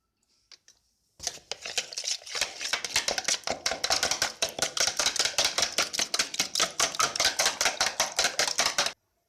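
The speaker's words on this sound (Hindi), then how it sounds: "अंडे को अच्छी तरह से फेंट लेंगे, थोड़ा दूध डालेंगे इसमें" Rapid rhythmic clatter of a whisk beating eggs with milk in a bowl, a steady run of close, bright strokes following a brief pause.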